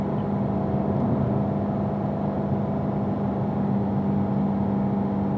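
A car driven at a performance driving school pulls through a turn on the track, its engine holding a steady, even drone at moderate level with no talk over it.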